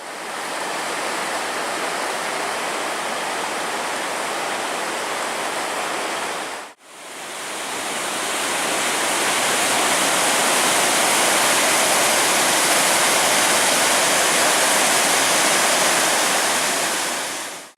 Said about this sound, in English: I'm coming up to Beaver River. Oh, it's a nice waterfall.